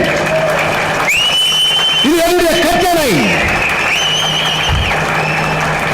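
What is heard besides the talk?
audience applause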